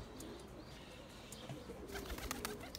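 Pigeons in a loft, soft cooing and faint flutters against quiet background, with some brief rustling and clatter toward the end.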